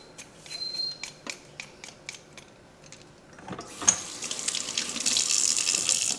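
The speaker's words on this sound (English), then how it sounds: "fill this up with water to put in the jars at the end" Kitchen tap running into a pot during potato canning. First come a few light clinks and handling taps, then the water turns on and hisses steadily, growing louder as the pot fills.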